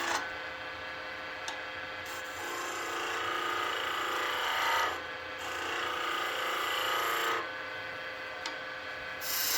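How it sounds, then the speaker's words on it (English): A skew chisel takes a cut on spinning wood on a lathe, giving a steady close rasping hiss that stops briefly twice between passes, with no talking. "While I've got the skew, I'm just going to take one cut so I don't have to sand later."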